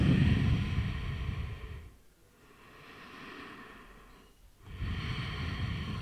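Slow breathing in and out through the nose during a guided yoga session, two soft airy passes separated by quiet pauses, close and fairly faint with no talking.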